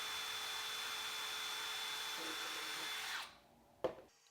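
A power drill whines steadily while boring pilot holes in a metal guitar pedal enclosure, then spins down and stops, followed by a single sharp knock.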